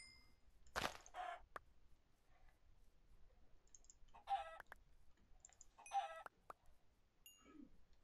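Video game chickens cluck in short, scattered bursts with clicking sounds between them, faint against a quiet background and with no talking.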